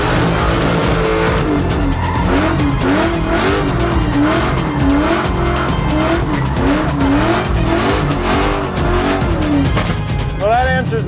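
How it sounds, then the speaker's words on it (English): A Ford Mustang fitted with a limited-slip differential spinning a donut, engine roaring steadily and tires squealing in repeated waves, loud and close, with voices talking over it. "Well, that answers that. I think it does a donut."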